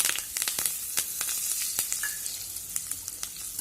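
Red chilies and turmeric crackle and sizzle in hot oil, a dense continuous fry with sharp pops scattered throughout, close and fairly quiet.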